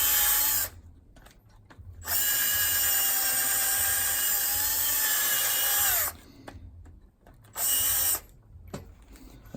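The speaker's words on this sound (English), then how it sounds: "I've drilled under the wedge." A power drill bores into a Gransfors Bruk splitting maul's wooden handle beneath its metal wedge, running loud and close in sustained bursts with short pauses between, the pitch dropping as it bites.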